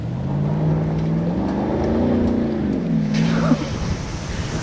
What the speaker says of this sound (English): First time driving the ZR2